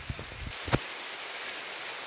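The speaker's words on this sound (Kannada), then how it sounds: "ಫುಲ್ ಜೋರು ಮಳೆ." Heavy rain pours down in a forest at Brahmagiri wildlife area, a steady dense hiss all the way through, with a few soft knocks near the start.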